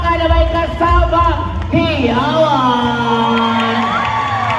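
Concert crowd at a mall show, loud continuous screaming and cheering with whoops, swelling around the midpoint, with a voice shouting over the noise.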